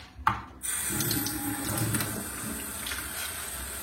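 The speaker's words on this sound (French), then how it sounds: "on commence d'abord par remplir la petite bouteille avec de l'eau fraîche" Fresh water runs from a tap into a small bottle, a steady close hiss and splash that starts after a brief knock and continues unbroken, with no talk.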